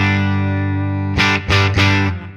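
An electric guitar on the bridge pickup through a Line 6 HX Stomp Fender Twin amp tone rings a sustained chord, then three quick strummed hits, with a warm, slightly driven tone and a short fade.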